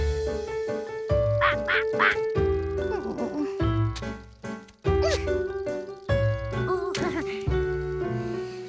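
Cartoon ducks in a moving-target shooting game let out a few quick, bright quacks over steady background music, with a short pause midway.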